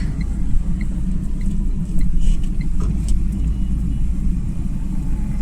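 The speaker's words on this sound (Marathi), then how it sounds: "नुसतं ट्रॅफिक आहे यार इथे" Steady low rumble of road traffic with engines droning close by, continuous and fairly loud, with no clear voices.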